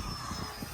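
Small 3D printed model jet engine running at half throttle on its first flight, a steady loud roar with a low rumbling pulse, heard close and without talk.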